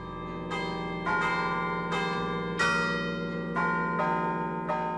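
Church bells chained in place ring as only their clappers strike. Several loud, resonant strokes come at a slow, uneven pace, and each hum blends into the next one.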